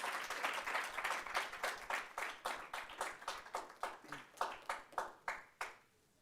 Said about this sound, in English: Let's give him another round of applause as he comes forward.